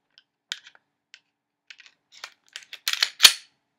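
A Glock 23 Gen 4 pistol handled up close, with scattered light plastic and metal clicks and taps that build into a few sharper snaps near the end, all in otherwise quiet surroundings.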